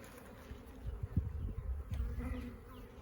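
Honey bees buzz in an overwintered nuc hive coming out of winter, a close, low droning hum with wingbeats rising and falling as individual bees pass near.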